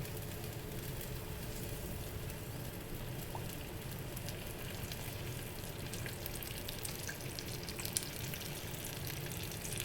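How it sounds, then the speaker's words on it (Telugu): Oil sizzles and crackles in a cooking bowl as snails are cooked in the Nigerian style, a steady, dense frying hiss that runs unbroken and fairly close, with a few sharper pops, and no voices. "ఇంక ఇప్పుడు దీంట్లో ఆయిల్ వేస్తుంది."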